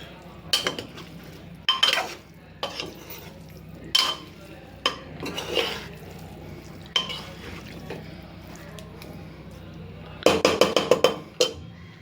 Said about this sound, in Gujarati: આ મશરૂમ પણ હું અંદર એડ કરી દઉં છું ને આને હું બરાબર મિક્સ કરી લઈશ